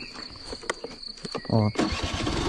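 A scooter engine cranks over and catches in a park, then settles into a steady running buzz as it pulls away, heard close with faint outdoor noise.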